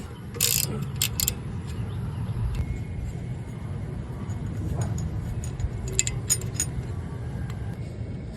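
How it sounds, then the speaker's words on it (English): Work on a Mercedes-Benz wheel hub, a T30 driver turning out the rotor set screw, gives a few sharp metallic clinks and jingles over a low steady background hum, fairly close by. "we got to remove this set screw with the T30"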